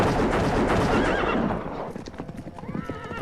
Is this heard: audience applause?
no